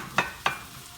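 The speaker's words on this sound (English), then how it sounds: "I'm just kind of like pounding these onions to separate them so that we get these nice rings here" Onions being pounded apart with a utensil in a hot pan give two quick, sharp knocks over a soft, steady sizzle of frying.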